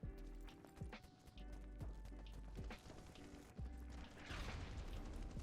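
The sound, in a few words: gunshots in the video game BattleBit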